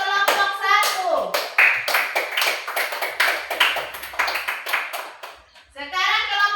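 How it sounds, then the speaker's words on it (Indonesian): A classroom of children claps for group 1, with bursts of clapping mixed with lively children's voices and a teacher speaking over them. "Tepuk tangan sekali lagi untuk kelompok 1."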